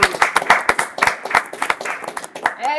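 Audience clapping for a prize winner at a live event, a burst of many quick claps at close range with short pauses, and a voice cutting in near the end.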